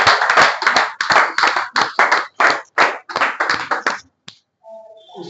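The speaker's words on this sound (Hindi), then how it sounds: "जोरदार तालियों से आमंत्रित करें आदरणीय मधु सिंह महक।" An audience at a Hindi poetry show claps in strong, rhythmic bursts that fill the room, then stops abruptly.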